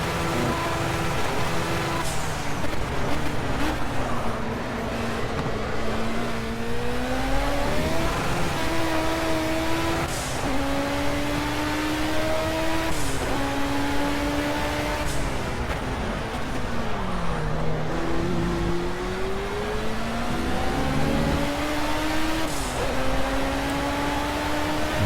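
A Ford race car engine in the racing game Project Cars drones steadily throughout, its pitch climbing through repeated gear shifts and dropping briefly at times, loud and continuous with no talking.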